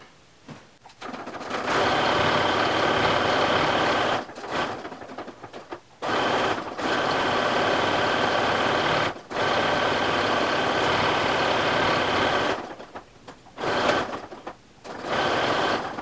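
A sewing machine stitches a fleece mitten's thumb seam in several long running bursts with short pauses between them, loud and close, alone with no talk.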